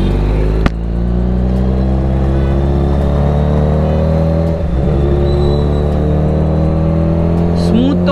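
A Yamaha R15 V4 motorcycle engine hums steadily and loudly while being ridden after its second service, with a smooth continuous drone and some rising pitch.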